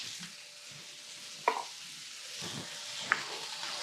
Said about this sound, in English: We're gonna pop in our arugula.